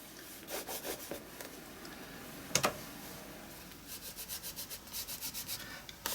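Soft, quiet rubbing strokes of crayon colour being worked into an art journal page, a close dry scratching that comes in a steady rhythm of short back-and-forth passes.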